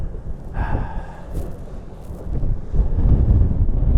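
Strong wind blowing over a lake during bass fishing practice, a steady low rumble of gusts buffeting the microphone that swells louder toward the end, with no talking.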